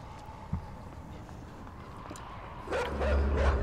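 Dogs in the video game Inside bark from a distance, a single sharp yelp early, then a rush of heavier barking and movement building toward the end, over a low droning background.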